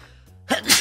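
A single sneeze from a person, a short breathy intake followed by a sharp, bright burst and a quick second release, close and fairly loud, with no talk over it.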